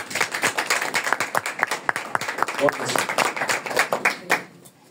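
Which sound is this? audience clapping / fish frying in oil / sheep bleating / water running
audience clapping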